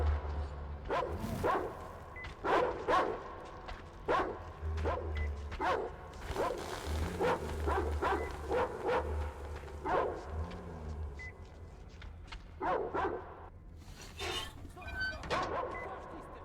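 A dog barks repeatedly in the post-apocalyptic shooter Metro Exodus, sharp yips and bow-wows in irregular bursts over a low engine-like hum, with a few whimpers in between.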